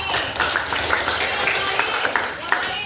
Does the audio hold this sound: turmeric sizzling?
no